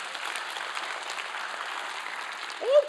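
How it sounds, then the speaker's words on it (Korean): Short burst of applause from a church congregation during a sermon, a soft wash of clapping at moderate level, with a brief sharper sound near the end. "우리 하나님께 영광의 박수 드립니다."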